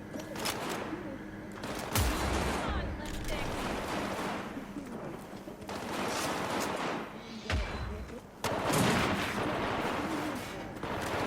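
Gunfire in Cyberpunk 2077: repeated shots and heavy impacts, several sharp cracks over a steady wash of combat noise, with voices shouting throughout.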